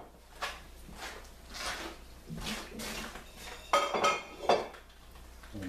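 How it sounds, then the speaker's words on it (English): Quiet clinks and clatter of pasta being moved into a bowl in a home kitchen, soft scraping and a few sharper utensil knocks toward the end, no voices. "I'm putting the pasta in the bowl."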